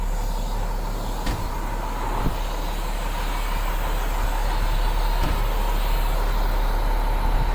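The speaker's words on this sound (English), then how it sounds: "What you're hearing is the air exhausting out of those airbags that push the axle down." Air hisses out of a truck's axle airbags as the lift axle lowers, a steady broadband rush heard alongside the low rumble of an idling engine, with a few faint clicks and no talking.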